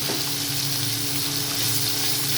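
Fresh pond puti fish frying in a pan, a steady, close, dense sizzle that holds evenly throughout with no voices over it.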